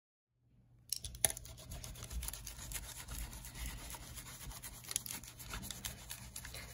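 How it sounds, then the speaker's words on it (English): Makeup brushes scrubbed a few at a time against a cleaning mat, a soft steady bristly rubbing with a few faint clicks, quiet and close with no talking. "So I'm just taking a few at a time and scrubbing them on the brush."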